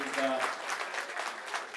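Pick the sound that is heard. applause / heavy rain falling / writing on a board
applause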